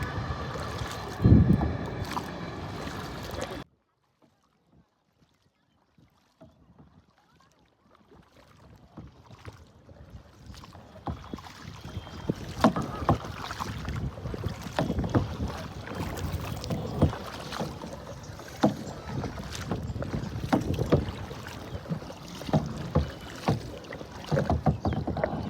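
Small rowing boat on the water at Uttara Diabari on a windy outing, with a loud burst of wind and water at the start, a quiet stretch, then steady splashing and knocking of oars and hull with gusty wind noise.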